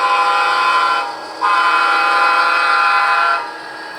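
A loud train horn blasts twice during switching operations in Huntington Beach, a long chord-like honk, a short break, then another sustained blare that fades slightly at the end.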